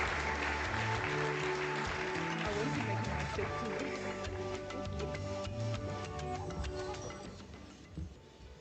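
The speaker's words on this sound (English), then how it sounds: "Let's give her a warm round of applause." An audience at an oil and gas conference applauds to welcome a managing director onto the stage, the clapping mixed with a background musical tone and fading slightly near the end.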